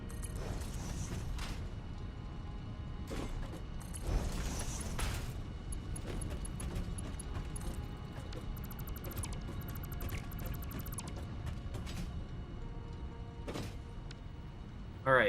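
Metallic clomping footsteps and mechanical clanks in the factory-building video game Satisfactory, repeated irregular knocks and creaks over a low ambient hum, moderately faint.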